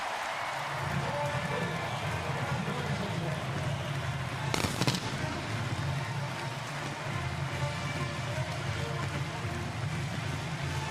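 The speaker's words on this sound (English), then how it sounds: "Fireworks at the Palace." Fireworks burst at a college football stadium after an Oklahoma Sooners touchdown against Illinois State, a brief crackling pop rising over steady crowd roar while a commentator talks.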